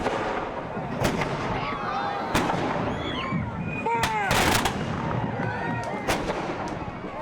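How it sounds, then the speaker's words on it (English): Historic Paul Revere cannons fire in several sharp, booming blasts at an outdoor ceremony, spaced irregularly, with echoing rumble and crackle between shots and crowd noise underneath. "The Paul Revere cannon can be seen up close at the museum, but throughout the year, there are special occasions when you can see them in action"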